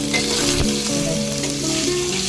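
Masala with turmeric and paneer fries over low heat in a pan, a loud, dense, continuous sizzle heard close up, with a brief stir and no speech.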